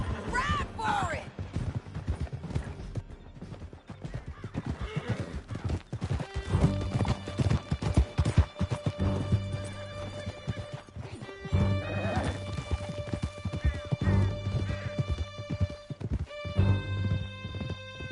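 Horses gallop in Red Dead Redemption 2, a steady clip-clop of hooves with whinnies and neighs, loud and close, running under speech and music through the whole stretch.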